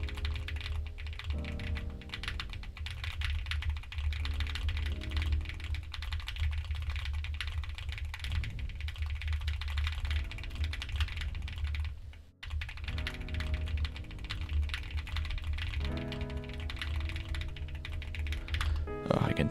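Fast, steady typing on a computer keyboard during an online typing race, a dense continuous clatter of keystrokes close to the microphone, with background music running underneath and one brief pause partway through.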